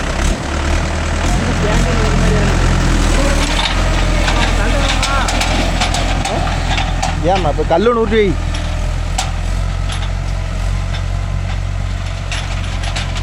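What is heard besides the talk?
Mahindra 575 DI tractor engine running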